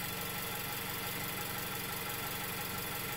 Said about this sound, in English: The pattern from just the normally idling engine.